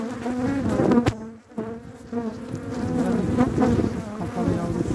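Honeybees buzz steadily and loudly at close range while a hive is opened for a February inspection, the drone dipping briefly before swelling back up, with no talk over it.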